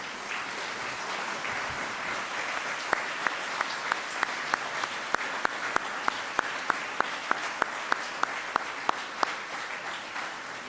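Moderate applause from a ceremony audience honoring university staff for 30 years of service, steady clapping with a run of sharp, evenly spaced louder claps near the front standing out over the crowd.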